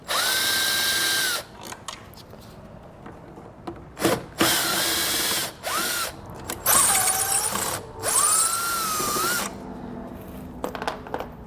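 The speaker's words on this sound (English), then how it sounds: "we're going to take a Phillips head screw, and we're going to remove our taillight assembly" A power driver with a Phillips bit whirs in several short bursts, backing out the corner screws of a taillight assembly on a 2016 Jeep Wrangler, with pauses and small clicks between runs.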